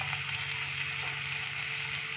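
Ginger-garlic paste and turmeric frying in hot oil give a steady, even sizzle, close and continuous throughout.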